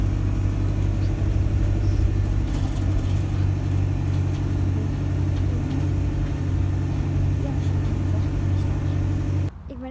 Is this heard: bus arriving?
yes